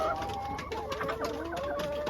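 Laying hens on a small farm in Zimbabwe cluck and murmur in a continuous, overlapping chorus, fairly close and steady with no talking.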